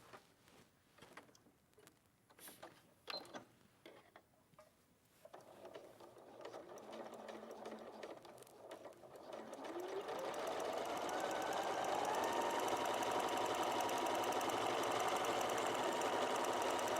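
A sewing machine stitches a quarter-inch seam along a quilt edge. A few clicks and taps come first, then the motor runs up into a steady whirring hum that gets louder and holds to the end.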